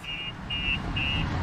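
A Starline S96 V2 alarm goes off on a 2022 BMW X5 as three evenly spaced, high, steady tones over a low rumble of background noise.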